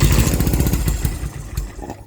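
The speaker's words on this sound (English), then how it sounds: "Turn our fuel on. Throw our choke up. And we'll see if she goes." A 1974 Honda CB360 motorcycle engine cranks and sputters on choke during a cold start, chugging unevenly for about a second before fading out without catching.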